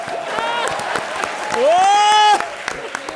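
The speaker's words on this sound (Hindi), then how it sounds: "तालियां कर दो" A television comedy show's studio audience applauds in a sustained wash of clapping, while a rising, shrill tonal sound effect plays briefly in the middle.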